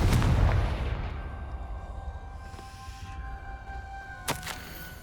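Confringo fire spell blasts in Hogwarts Legacy, opening with a loud booming burst that rumbles and fades, then a sharp crackling pop near the end.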